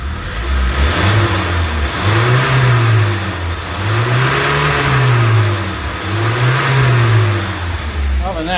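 An old Bedford CA ice cream van engine revs up and down in repeated waves, a rough, lumpy mid-pitched roar close by with a steady rumble underneath, running lumpy at tick over.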